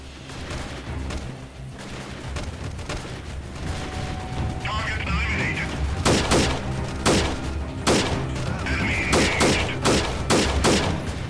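Single-shot gunfire in the first-person shooter mod of Mount and Blade, a series of loud sharp reports spaced a second or so apart over a constant rumbling game background.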